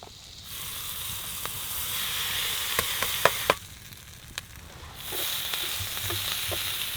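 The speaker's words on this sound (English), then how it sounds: "I'm just gonna cut it up and fry it in the butter and onions" Food sizzles and hisses steadily as it fries in butter with onions, a continuous frying hiss broken by a few sharp crackles and pops, close and moderately loud with no talking.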